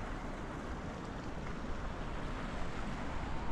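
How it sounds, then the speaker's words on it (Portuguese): Southwest wind blowing at Arraial do Cabo beach, a steady, dense roar of gusts buffeting the microphone, mixed with the wash of surf and no voices. "E o vento mudou, entrou o sudoeste"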